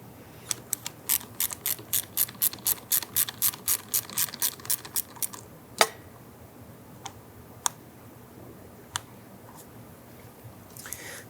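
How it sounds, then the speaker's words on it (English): A ratchet with a 6mm socket loosens screws holding a power window motor on a 1999-2004 Jeep Grand Cherokee front window regulator, giving a close, rapid run of clicks, then a few isolated clicks after a pause. "We're going to use a 6mm socket. We're going to loosen and remove the 3 screws holding the motor."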